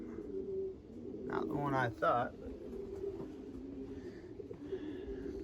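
Racing pigeons coo softly on returning to the loft after a 250-mile race to McDonough, Georgia, a low steady murmur running throughout beneath brief nearby speech.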